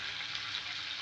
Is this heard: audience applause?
no